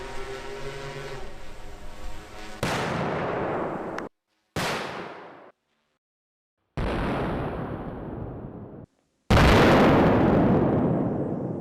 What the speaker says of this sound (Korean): 지상으로부터 약 3 내지 5m의 지점이 되면 자동으로 소화탄이 폭발하는 원리다